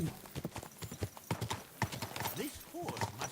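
Video game horse hooves clip-clop in a steady trotting rhythm, with brief horse snorts and whinny-like sounds mixed in, moderately close and fairly quiet.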